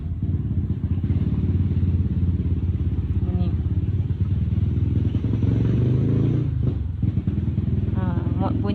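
A motorcycle passes outside, a steady loud engine drone running throughout under a teacher's voice giving a maths lesson, with the talk rising over it near the end.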